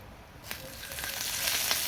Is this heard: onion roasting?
yes